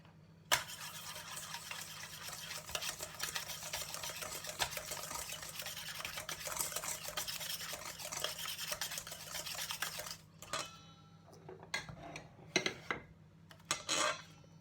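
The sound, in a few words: mixing chocolate pudding cake batter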